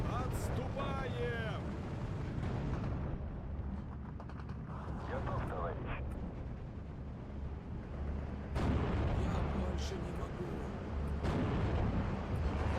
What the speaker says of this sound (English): That Maxim got absolutely aced by artillery